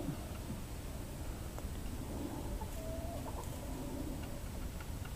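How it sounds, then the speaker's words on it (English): Soft low rooster clucks and scratchy farmyard noise run steadily under a constant background hum, with no voices present. "I'm almost positive that that's a rooster"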